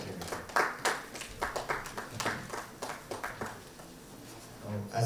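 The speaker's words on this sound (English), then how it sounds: "Please have an applause, Mr. Amit, Agarwal, CEO," Scattered audience applause for a panelist at a conference on global nutrition and nutraceuticals: moderately faint, uneven clapping that thins out toward the end.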